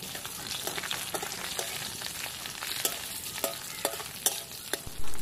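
Cardamom, cloves and bay leaf fry in oil in a pan, a close steady sizzle broken by sharp spatters and stirring scrapes, with a clatter at the end.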